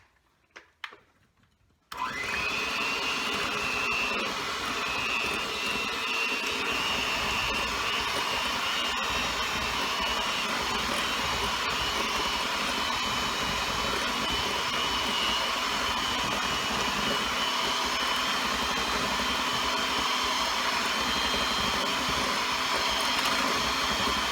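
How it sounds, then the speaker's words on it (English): An electric hand mixer beating apple cake batter starts after a brief quiet moment and then whirs continuously and steadily, loud and close for the rest of the clip. "with a hand mixer, we're going to mix till fully combined"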